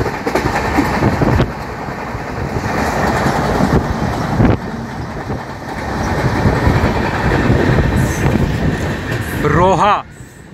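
Thiruvananthapuram–Hazrat Nizamuddin Superfast Express train running on the Konkan Railway route, a loud steady rumble and rattle with clickety-clack of wheels heard from aboard, and a brief whistle-like squeal near the end.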